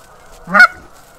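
A single goose honk rings out loud and close beside a river during a waterfowl hunt, one short nasal call standing alone over a quiet background.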